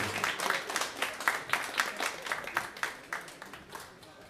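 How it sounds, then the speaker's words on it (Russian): An audience at a memorial concert for Anatoly Makurov claps in a fairly steady, rhythmic beat, the applause close and continuous. "Вы нам еще раз поаплодируйте"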